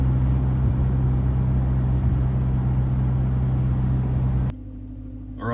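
A 2014 Dodge truck engine fitted with an aFe Magnum FORCE Stage-2 cold air intake idles with a steady low rumble and hum, continuous and close, then the tone drops abruptly near the end.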